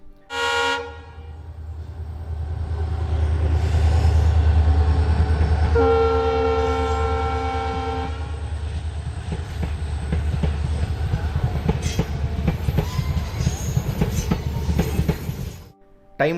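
A train crossing the new Pamban bridge sounds its horn in long blasts while the cars rumble past nearby, a loud, rhythmic clatter of wheels fading toward the end.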